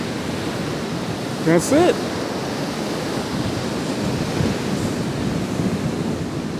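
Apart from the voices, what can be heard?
ocean waves at Rockaway Beach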